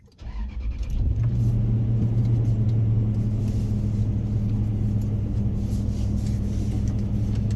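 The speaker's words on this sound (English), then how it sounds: "I love the way this thing starts. It starts so fast." A Toyota Tundra truck engine cranks and catches within about a second, then settles into a loud, steady, close low rumbling idle with no talking.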